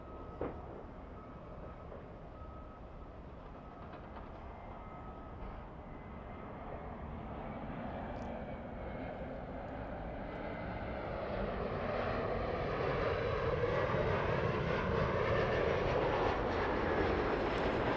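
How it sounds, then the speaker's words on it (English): An Embraer E175 airliner taxis and lines up for departure at Los Angeles LAX, a low engine rumble and whine that grows steadily louder as it moves closer. "Little E175 on the move. Lining up."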